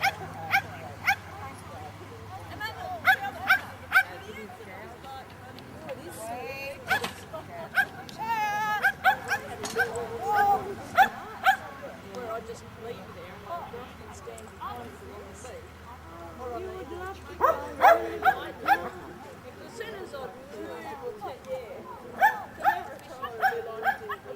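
Small dogs bark and yip in short bursts at a Friday night dog club gathering, fairly faint behind a voice that talks steadily through most of the scene.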